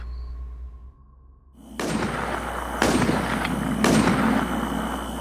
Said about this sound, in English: Someone is shooting nearby.